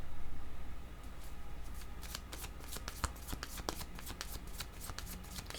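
Tarot cards are shuffled close by in a rapid run of crisp riffling flicks and slaps that lasts several seconds, with no talking.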